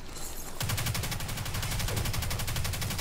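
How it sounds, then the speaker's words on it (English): Rapid automatic gunfire in a multiplayer shooter video game, a fast, evenly spaced burst of shots that starts abruptly and keeps going loud and steady. "I could just hear people just shooting like that"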